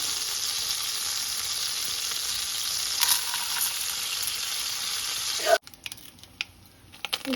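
Mustard seeds, split lentils and chana dal frying in hot oil in a kadai for tempering, a steady bright sizzle with faint crackles that stops suddenly, followed by a few quiet clinks.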